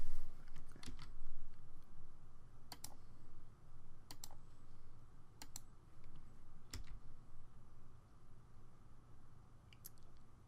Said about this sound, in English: I'm gonna be typing in a key that I have.